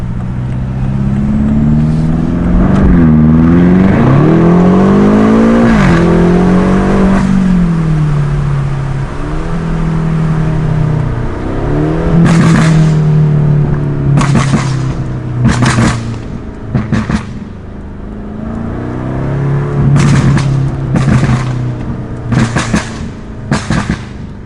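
A 2019 BMW F90 M5 with a custom catback exhaust revs and accelerates, deep rising and falling engine drones punctuated by loud crackling pops and bangs, close and powerful throughout.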